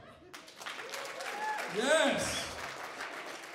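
A comedy club crowd claps and cheers, applause swelling in the middle and tapering off, with voices calling out and talking over it.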